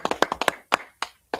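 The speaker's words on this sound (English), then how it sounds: "Clap it up for the prayers" Congregation clapping for the prayers at a Shabbat service, a quick run of sharp hand claps followed by a few slower, spaced claps as it tapers off.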